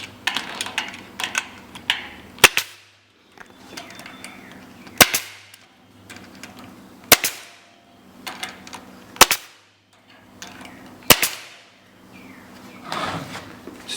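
A staple gun fires staples while a quail cage is being built, six sharp, loud snaps spaced about two seconds apart, with quieter handling rustles and clicks between them.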